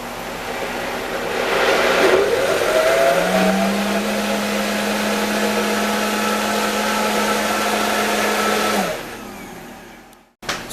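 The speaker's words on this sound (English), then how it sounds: "The heat from the Vitamix will help melt the butter." A Vitamix blender churning butter into mashed potatoes spins up to a loud, steady motor whine. It holds that pitch for several seconds, then winds down and stops abruptly.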